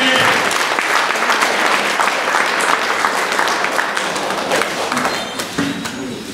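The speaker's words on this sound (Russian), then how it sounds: "Еще раз, пожалуйста, приветствуем аплодисменты" Sustained, dense applause from a concert audience fills a hall at full volume, with many hands clapping steadily throughout and tapering only slightly near the end, while scattered voices sit faintly beneath it.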